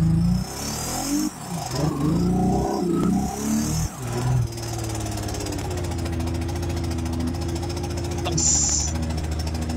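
A race car engine revs hard and accelerates during a racing battle, a loud, rough, knocking roar that drops briefly and then settles into a sustained, steadily rising drone.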